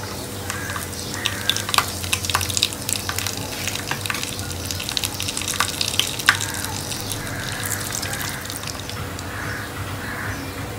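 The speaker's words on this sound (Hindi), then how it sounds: "अब हम इसमें ये मसाले डाल देंगे, खड़े मसाले, और थोड़ा सा हम इसे भून लेंगे।" Whole spices roasting in hot oil in a pan for dried-pea chole, giving a steady crackling sizzle with frequent sharp scrapes and taps of a spatula stirring, close and fairly loud throughout.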